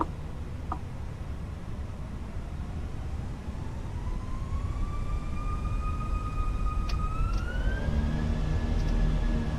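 Airbus A319 jet engines in Microsoft Flight Simulator spooling up for takeoff, a rising whine climbing steadily in pitch over a broad, growing roar that gets louder toward the end, with no talk.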